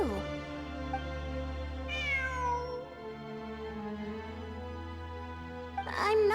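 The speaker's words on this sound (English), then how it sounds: "It really is a cat." A cat meows repeatedly inside Genshin Impact's ruins exploration, with several distinct mid-pitched calls standing out over steady ambient game music, one near the start, one around two seconds in, and a final sharp meow at the end.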